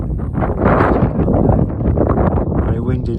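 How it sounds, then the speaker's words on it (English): Strong wind gusts beside the Haven river near Fishtoft, buffeting the microphone in loud, uneven roaring bursts that run throughout. "Very windy day."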